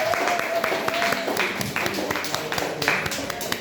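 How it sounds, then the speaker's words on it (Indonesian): An audience in a classroom presentation on a human and AI experiment breaks into moderate, scattered applause for the human team, with a voice speaking over the clapping throughout. "Kita beri aplaus dulu untuk manusia."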